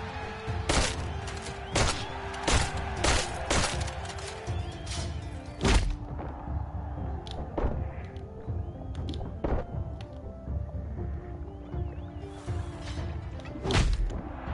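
Repeated sharp gunshot cracks and thuds from enemies in the combat game Tails of Iron, irregular bursts spread across the stretch with clanks and whooshes between them and no talk.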